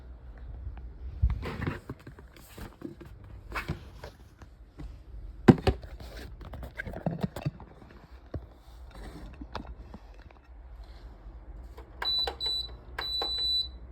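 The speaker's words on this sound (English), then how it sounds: "here's the Cascade for scale on how loud the beeping on this fan is" Scattered clicks and knocks in a quiet room, then a few short, high electronic beeps from a 2006 Lasko Wind Curve 45-inch tower fan near the end.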